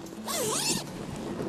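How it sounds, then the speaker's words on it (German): A Catoma bed net tent's zipper is pulled shut in one quick, close rasping run that ends abruptly. "Reißverschluss zu"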